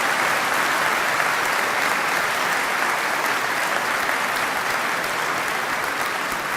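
A graduation ceremony audience gives a sustained, steady round of applause for university staff, a full hall of clapping that stays even and loud throughout with no talk.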